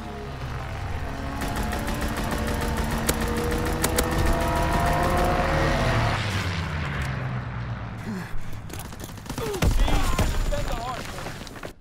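Dense gunfire and explosions from a strafing run in Call of Duty WWII, loud and continuous under music and voices, thinning toward the end with scattered sharp bursts.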